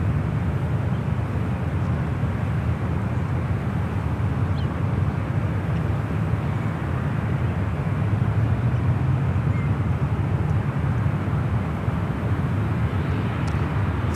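Korean Air Boeing airliner taking off at San Francisco airport, a steady distant roar of jet engines held evenly throughout with a broad rumbling wash, no voices.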